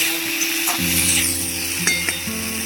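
Spices and water go into a pan of sizzling fish, potato and tomato curry, giving a loud steady hiss with a couple of brief clinks of a utensil against the pot, no talking.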